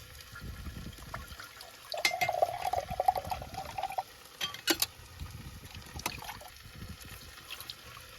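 Water trickles and splashes while lentils are rinsed for a lentil stew inside a camper van, a faint, uneven stream with light clinks and rustles in a quiet space.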